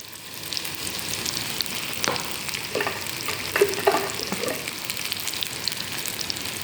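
Urad dal and asafoetida powder fry in hot oil, giving a soft, continuous sizzle and crackle with a few brief spatters and stirring scrapes, close and fairly quiet, no voices.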